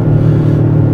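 Range Rover Sport SV accelerating: a loud, close, low engine rumble from inside the cabin, steady over a single second with no talk.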